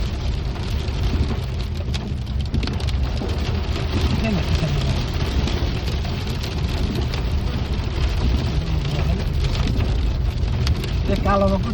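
Rain and hail pelt a vehicle driving a mountain road toward Zuluk in Sikkim, a dense, steady roar of drumming drops lasting the whole stretch with low road and engine rumble underneath.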